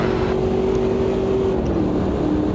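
Race car engine in the Automobilista 2 video game, a steady loud sustained drone with a constant pitch, alone without talk.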